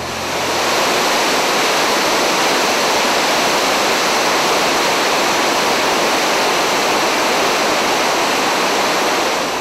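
The Hunza river, swollen with glacier meltwater in spring, rushes as a loud, dense, unbroken roar of water that stays steady from start to finish with no other sounds.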